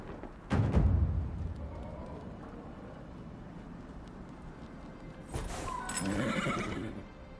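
A horse neighs loudly in Dragon Age: Inquisition, a purebred Ferelden Forder chestnut, with a strong whinny near the start and a second, softer neigh and snort toward the end over a low ambient game background.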